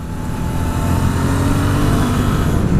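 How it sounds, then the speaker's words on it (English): A Suzuki 600 two-cylinder motorcycle engine revs hard and steadily on a test track, a loud, continuous throaty drone that holds strong without a break, with no voices. "Oh man, good engine. Good 600 engine."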